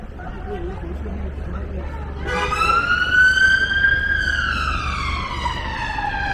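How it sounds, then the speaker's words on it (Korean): An ambulance siren starts up nearby and wails in rising and falling sweeps over street noise, with people's voices murmuring faintly in the background. "어, 구급차네요"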